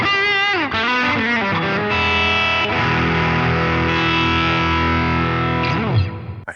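An electric guitar played through the Line 6 Helix Teemah overdrive model, with bass and treble cuts set fully down, rings out in a bright, driven strummed chord that sustains for several seconds and then cuts off abruptly near the end.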